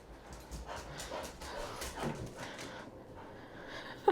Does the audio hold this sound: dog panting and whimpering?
yes